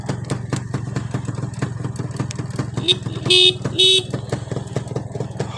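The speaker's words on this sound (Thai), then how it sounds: "แตรก็ดังเลยนะฮะ" Horn on a Honda Tena motorcycle, sounded in two short honks, one brief tap then a longer blast, over the steady near puttering of its idling engine.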